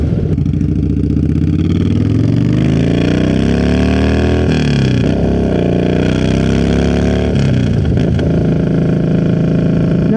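A Yamaha Bolt 950cc cruiser motorcycle engine runs loud and steady nearby, its throbbing note rising and falling with a few rev swings.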